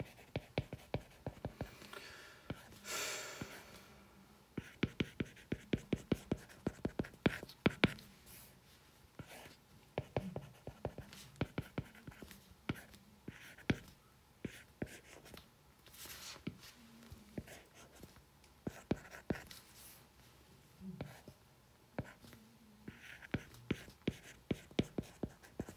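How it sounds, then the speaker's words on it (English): Chalk or marker on a board in a complex analysis lecture, with rapid clusters of sharp taps and scrapes and pauses between bursts, close and clear, with no talk. "Let me just write it down first."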